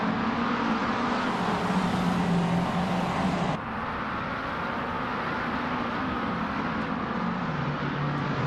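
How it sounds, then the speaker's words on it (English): Racing car engines in an AI-driven video game race, a loud, sustained engine drone with shifting pitch and a sudden change in tone about midway, continuing steadily to the end. "Hope you're ready for some exciting AI car racing."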